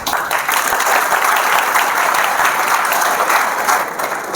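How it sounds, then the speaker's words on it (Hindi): Applause from a student audience at a motivational study seminar, a dense, continuous wash of many hands clapping, loud and sustained with no talk over it. "खुद के लिए ताली बजाइए"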